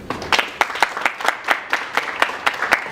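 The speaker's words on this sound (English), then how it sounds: "just give a round of applause again." A conference audience claps in a loose, fairly rhythmic burst of applause, the individual claps distinct and close, lasting a few seconds with no speech over it.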